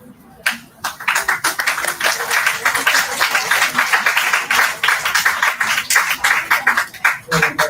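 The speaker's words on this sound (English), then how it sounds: "that clapping is an indication that you better stop" A conference audience in a college hall breaks into loud, sustained clapping, many sharp close hand claps blending into dense applause that starts abruptly and continues throughout.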